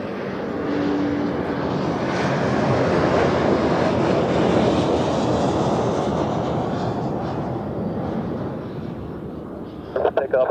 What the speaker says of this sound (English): after the landing, which is going on right now